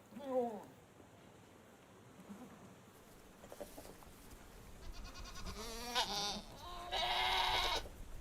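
Goats near shepherds in rural Yunnan, China, bleat in several wavering calls, one close at the start and more later over an outdoor background with a buzzing hiss.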